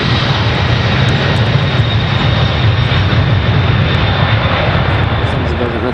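Boeing 747 jet engines roaring steadily and loudly up close, a continuous broadband rumble with a high whine that holds level throughout without a break.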